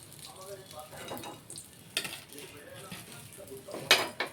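Chicken cutlets fry in oil over a gas flame with a faint, soft sizzle. Now and then a utensil clinks and scrapes against the pan, with a sharper clatter near the end, all quiet and close.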